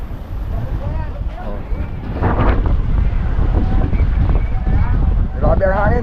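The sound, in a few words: strong wind at sea on a fishing boat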